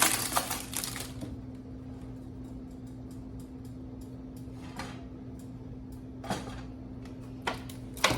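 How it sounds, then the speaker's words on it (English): A knife cutting tomatoes on a cutting board gives a few scattered, crisp taps and knocks, clustered near the start and end, over a quiet room with a low steady hum. "now we are going to cut up the tomatoes"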